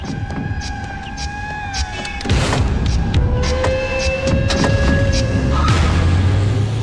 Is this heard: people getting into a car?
yes